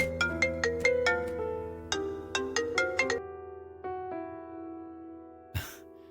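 Phone ringtone for an incoming call, a bright melodic pattern of repeated tones that plays loud and clear on its own, then fades and ends with a brief rustle.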